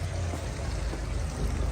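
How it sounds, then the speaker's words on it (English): Water splashes and pours continuously in a steady, close rush from a pondless backyard waterfall tumbling into its basin. "the waterfall has picked up volume"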